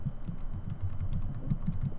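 Fast, steady typing on a computer keyboard, close and continuous, a soft rapid patter of keystrokes over a low room hum.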